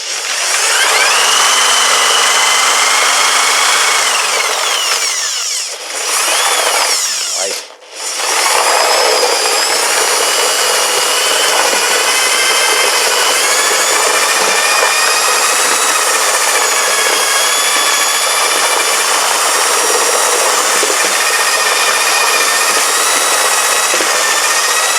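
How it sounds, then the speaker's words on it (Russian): A drill fitted with a construction paddle mixer churns shredded plastic pieces in water with detergent, giving a loud, steady whirring and sloshing that runs almost without pause, with two brief dips near the start. "И отмываю я обычным миксером строительным, дрелью и миксером."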